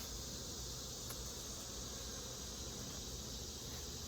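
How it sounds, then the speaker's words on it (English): A crowded honey bee hive, the brood box heavy and packed with bees after a swarm, gives off a steady, dense hum that holds evenly and close throughout, with no talking. "when there's this many bees in the hive, man, they just do not get out of your way"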